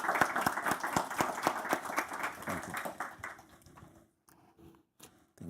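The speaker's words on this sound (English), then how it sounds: "could we have a round of applause for the Commissioner?" Audience applause for the Commissioner at an EU–Kazakhstan relations panel: dense, steady clapping from a hall crowd for about four seconds, then thinning to a few scattered claps.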